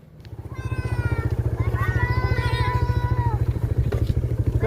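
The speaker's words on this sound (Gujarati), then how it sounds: "પપ્પાએ બાઇક સ્ટાર્ટ કરી દીધું છે." A motorcycle engine starts, rises within a second into a fast, even thumping idle and keeps chugging close by, with voices talking over it.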